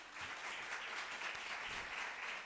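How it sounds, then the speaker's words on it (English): A conference audience at a world congress on justice for children applauds steadily, a faint, even wash of clapping with little else over it. "Let's give them a round of applause, please"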